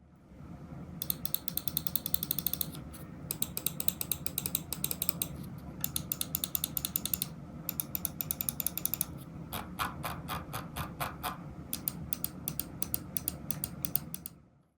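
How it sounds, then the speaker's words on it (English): Repeated mouse button clicks from Huano Blue Shell Pink Dot switches on a Fantech Helios II Pro S gaming mouse, crisp and tactile, played in several rapid bursts with short pauses, close and clear with no talking. "I'll give you guys a quick sound test of the switches here on the mouse."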